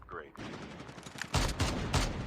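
An M20 gun fires in a video game, a muted start followed by rapid bursts of automatic fire in the second half.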